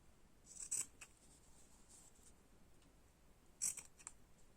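Two crisp scissor snips sound close by as the corners of fabric are cut for a hanging car decoration, with a faint quiet background between the cuts.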